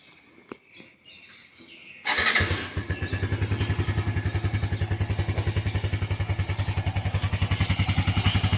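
After some faint clicks, a 2019 Yamaha Jupiter RC 115 cc motorcycle with a slip-on exhaust fires up and settles into a loud, steady, rapid-pulsing idle.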